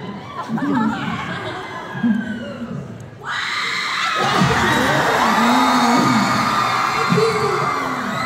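Concert crowd at a show in Orlando screaming and cheering, a loud, sustained roar of many voices that swells partway through, with a few shouting voices and chanting over the noise.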